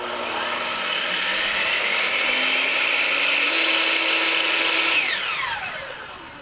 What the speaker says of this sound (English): All right, here goes the miter saw.